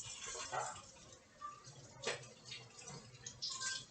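Raw chicken legs rinsed under a running kitchen tap, with a steady wash of flowing water, soft splashes and drips as the meat is turned, close and fairly quiet.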